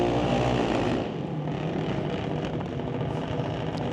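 Lightning-category drag racing cars roar down the strip at a test-and-tune event, a loud sustained broadband engine roar that eases slightly after the first second and continues at a distance.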